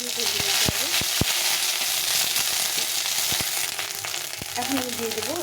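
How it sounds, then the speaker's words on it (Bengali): Ground ginger and green chili frying in hot oil, a loud dense sizzle up close with sharp pops and crackles scattered through it, and a voice faintly speaking beneath. "আদা কাঁচা লঙ্কাটাকে একটুখানি ভেজে নিতে হবে।"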